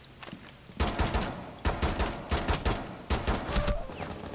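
Gunfire in the video game Rainbow Six Siege, loud bursts of rapid shots in several clusters, with short pauses between volleys and no talking.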